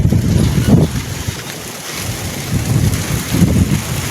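Strong wind roars and buffets the microphone in steady gusts, with a low, churning rumble that swells and eases across the clip.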